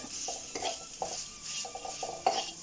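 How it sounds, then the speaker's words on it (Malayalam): Grated coconut roasting in a pan for Kerala koottukari, a spoon scraping and stirring in repeated clinks and scrapes against the metal, with a faint sizzle underneath, close and moderately loud. "തേങ്ങ നന്നായിട്ട് മൂക്കണം കേട്ടോ"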